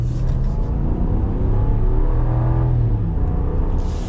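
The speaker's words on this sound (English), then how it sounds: "And we'll get our full-blown acceleration here now." A 2022 Ram 1500 Rebel pickup with the 5.7 Hemi V8 accelerating hard, a loud, steady engine roar and road rumble heard from inside the cab, with no talking.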